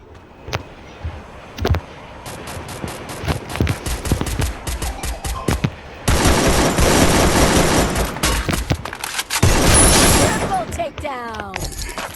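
Rapid gunfire bursts from the Free Fire mobile battle royale game, starting as scattered single shots, then dense sustained automatic volleys, loud and close, with a voice talking at points.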